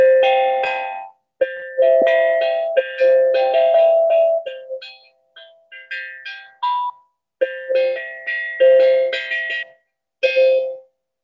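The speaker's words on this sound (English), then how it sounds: "we're also going to add the flavor of a tongue drum." A tongue drum plays a mellow, ringing melody of sustained tones, with some quicker notes in the middle and gaps between phrases.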